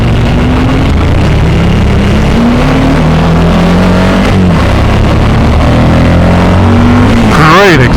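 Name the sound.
Suzuki V-Strom 1000XT motorcycle engine accelerating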